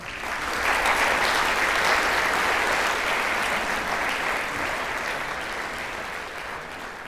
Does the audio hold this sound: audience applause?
yes